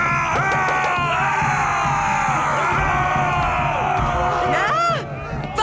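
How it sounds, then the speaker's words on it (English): Cartoon Vikings in a kids' animated show run about shouting and yelling as a rowdy crowd, loud and continuous throughout, with whoops and bellows rising near the end. "Vikings! Running around and shouting."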